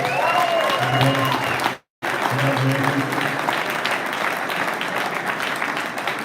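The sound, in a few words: audience applause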